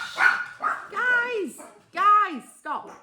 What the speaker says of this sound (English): My dog's just gone mad at anything.